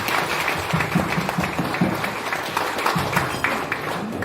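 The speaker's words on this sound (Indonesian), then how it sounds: "mari kita beri aplaus tepuk tangan yang meriah buat Pak Suherman" An audience applauding a speaker at a business talk, dense, even clapping from many hands that carries on steadily without pause.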